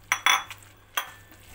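A fork or whisk clinking against a bowl while mixing eggs and cheese into a filling for Moroccan briouats, a few quick sharp taps and scrapes, close and clear, with no talking.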